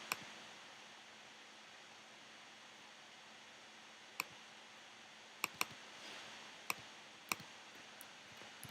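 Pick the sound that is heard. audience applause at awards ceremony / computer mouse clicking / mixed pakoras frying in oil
computer mouse clicking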